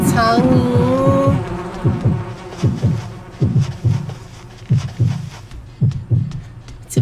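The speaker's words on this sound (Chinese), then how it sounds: "苍蝇" Flies buzz in the horror adventure game Yomawari: Midnight Shadows: a loud opening drone gives way to repeated pulsing, throbbing bursts roughly every half second to a second, close and prominent with no voices.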